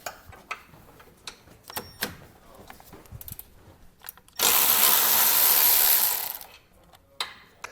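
A power tool runs in one loud, steady whir for about two seconds while loosening 13mm bumper beam bolts on a 2022 Chevrolet Equinox, between scattered close clicks and handling knocks of the tool.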